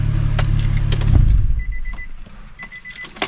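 A Nissan G35 idles with a steady low exhaust rumble that drops away after about a second, followed by faint metallic clicks and jingling, then quiet.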